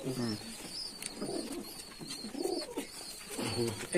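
Giribaz pigeons at a pigeon farm with about 110 pairs coo close by in repeated low, throaty phrases, with faint voices in the background.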